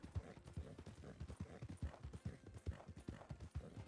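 Horses' hooves clip-clop on a road at a steady walking rhythm, close by and distinct, with faint ambient noise behind them.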